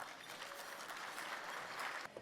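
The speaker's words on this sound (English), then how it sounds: "Let's give them a round of applause." An audience at a fireside chat panel on youth homelessness prevention gives brief, even applause, a dense, fairly distant wash of clapping.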